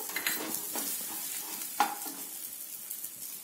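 Onions and chilli powder sauté in a pan for mushroom gravy, a soft continuous sizzle broken by a few scraping stirs from a spoon, close by and fairly quiet with no talking.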